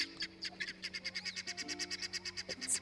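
A loud wild bird calls repeatedly beside a pond outdoors, sharp rapid chirps in a steady rhythm, close and prominent over quiet background.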